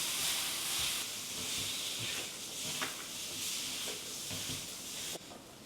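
A kitchen blow torch roars with a steady hiss as it sears grilled summer vegetables for a sandwich, the broadband rush holding evenly with small crackles and pops along the way, close and continuous.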